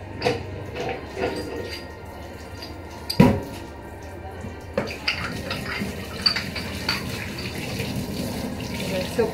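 Tap water running steadily into a sink during washing up, with clinks and knocks of dishes and a sharp clatter partway through, heard close in a kitchen.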